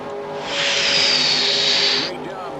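Race cars at Daytona in NASCAR Racing 2003 Season roar past in a loud, hissing engine whoosh that swells and fades over a couple of seconds.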